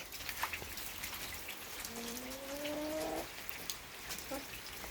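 Steady light rain patters over a soft broadband hiss, with scattered drips and a brief animal cry partway through.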